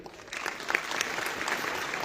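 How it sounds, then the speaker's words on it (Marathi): An audience at a political gathering breaks into applause, a dense crackling wash of clapping that rises quickly after a quiet start and holds steady. "कांबळे साहेबांसाठी जोरदार टाळ्या झाल्या पाहिजेत"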